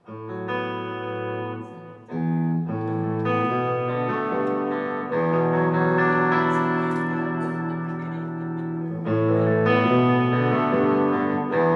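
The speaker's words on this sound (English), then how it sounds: "I just turned on some delay, but there's no distortion." Clean electric guitar chords with humbucker pickups ring out through a single-channel amp with a delay effect, repeats trailing behind each strum, played steadily and loudly with no distortion.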